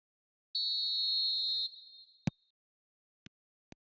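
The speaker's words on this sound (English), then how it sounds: "There's the whistle, and here we go." Referee whistle blowing to start a match in the football video game eFootball 2026, one sustained shrill blast lasting about a second, followed by a few sharp isolated clicks, clean and alone.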